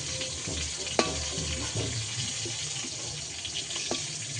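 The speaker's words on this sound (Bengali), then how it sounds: "এগুলো আমি ভেজে নেব।" Fish fries in hot oil in a pan with a steady, fairly soft sizzling hiss, broken by a couple of sharp clinks from a utensil close by.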